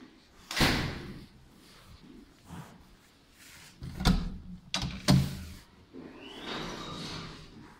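A 1995 Otis elevator in a REWE supermarket in Dortmund runs its door, with a few sharp thumps and slams, a sliding rumble, and a quieter whirring mechanism near the end.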